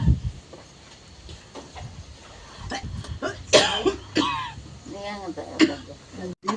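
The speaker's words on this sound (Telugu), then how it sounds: "దగ్గు" An elderly woman with a fever coughs several times in short, harsh bursts, mixed in with nearby conversation in a clinic setting.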